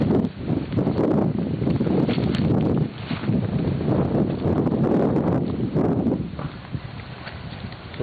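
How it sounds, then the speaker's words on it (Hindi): Strong wind blows outdoors, buffeting the microphone in a loud, continuous rush with gusty swells and a slight easing near the end; no one speaks. "तेज हवा अभी चली है एकदम।"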